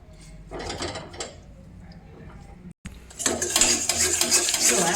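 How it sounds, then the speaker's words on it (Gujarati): Jaggery stirred in a pan over low heat while making adadiya, a continuous close scraping and clinking of spoon against metal that breaks off for a moment and then returns louder and more hissing, with no speech. "આપણે તે ધીમા ધીમા તાપે આવી રીતે એને મિક્સ કરી દેવાનું"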